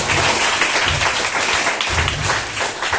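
A crowd at a religious gathering claps steadily in continuous, dense applause, loud and close throughout with no voices rising above it.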